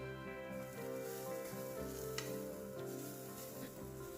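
Grated coconut frying in hot coconut oil with garlic and cumin, giving a steady, dense sizzle and crackle that holds throughout at moderate volume with no voices.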